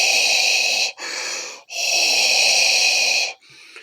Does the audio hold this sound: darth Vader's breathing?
yes